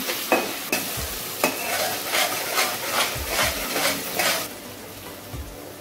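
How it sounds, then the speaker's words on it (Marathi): Chopped tomato frying and being stirred in a pan with browned onion for a Maharashtrian crab curry, giving a steady sizzle under repeated scraping strokes of a spoon, close and fairly loud with no talk. "1 टॅमॅटो घेतलेला आहे, तो पण आपण फ्राय करून घेऊया"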